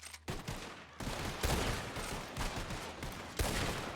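Shootout gunfire in a video game, a run of sharp overlapping shots and bursts coming in uneven clusters, fairly close and loud, without speech.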